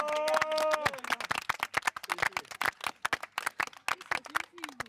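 A hockey team gives a burst of dense, close clapping after a competition, with loud claps and some whoops over the first second before the applause carries on.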